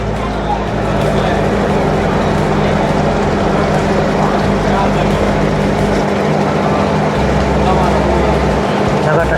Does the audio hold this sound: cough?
no